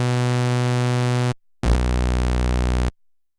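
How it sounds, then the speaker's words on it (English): Hollow, buzzy synth tone from a hand-drawn Serum waveform resembling a pulse-width-modulated square wave, played as two sustained notes, the second lower, each ending abruptly, loud and alone. "it has this hollow sound to it that's kind of reminiscent of a pulse width modulated score waveform"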